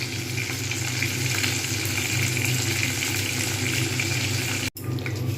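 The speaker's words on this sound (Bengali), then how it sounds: "এক পিঠ ভাজা হয়ে গেছে আরেক পিঠ উল্টে গিয়েছে কড়াটা ছোট যার জন্য বেশি নাড়াগাড়ি করছি না" Bhetki fish pieces frying in oil in a small wok after being flipped, a dense, continuous close sizzle with a brief dropout near the end.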